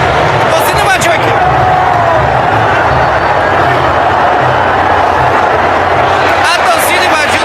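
Dense roaring crowd of Remo football supporters flooding the pitch to celebrate promotion to Série A, loud continuous babble and shouting with chants, and someone speaking over the noise.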